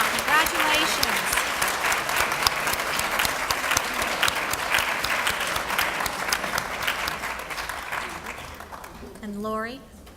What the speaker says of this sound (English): And now another round of applause for all of our new inductees, the Sigma Theta Tau